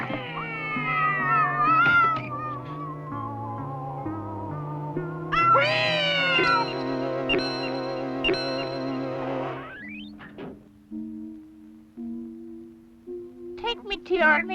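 A cartoon cat character, the Cosmic Cat, makes stretched, sing-song meowing and caterwauling sounds over a bed of music, with wavering pitch slides and a few sharp yowls near the end; it is plainly a voice imitating a cat.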